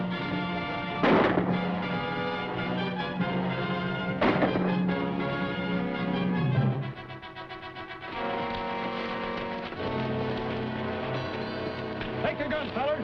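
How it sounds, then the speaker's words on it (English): Gunfire in a 1940 Western film, two loud booming shots rising over an orchestral music score, with voices speaking in the mix. "like we're shooting together, Gabby. Aim and fire"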